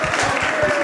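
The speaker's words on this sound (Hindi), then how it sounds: "एक बार महाराष्ट्र कॉफी के लिए जोरदार तालियां" Audience at a fifth-anniversary celebration for the Anupama TV show team giving loud applause for the Maharashtra fan club, steady dense clapping with a crowd murmur and a faint voice underneath.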